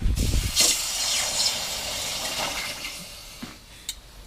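A hot copper ingot plunged into water gives a sharp burst of sizzling bubbling, then a long fading steam hiss with a few faint clinks near the end.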